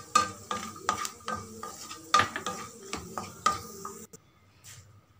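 Beetroot being fried and stirred in a pan: a dozen or so rhythmic scraping strokes of a spoon over a soft sizzle, ending abruptly into near silence.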